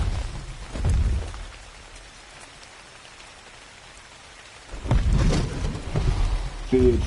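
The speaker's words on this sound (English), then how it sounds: "See, it's still raining and cloudy" Rain falls in the Ark video game, a steady hiss with heavier bursts near the start and again toward the end, along with low rumbling swells and a few clicks.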